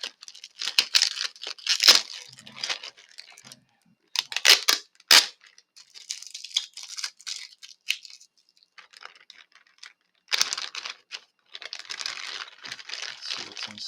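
A package sealed with tape is torn open close by in several separate bursts of ripping and crinkling paper and plastic, with short quiet pauses in between.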